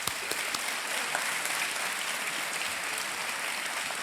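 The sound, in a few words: studio audience applause on a quiz show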